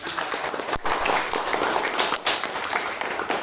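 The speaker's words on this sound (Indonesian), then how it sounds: "Tepuk tangan saya kira" Classroom applause from students during a math coaching lesson, a steady, dense clatter of many hands clapping nearby, with a couple of brief louder sharp claps.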